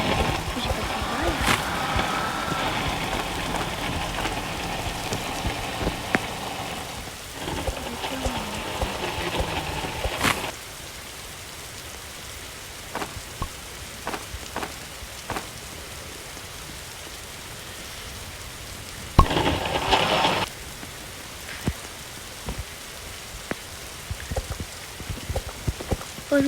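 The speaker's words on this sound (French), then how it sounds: "Oh non, vas-y, il pleut." Rain patters on a surface around a boat, steady at first with louder bursts and scattered drops, thinning out later. A voice speaks French intermittently.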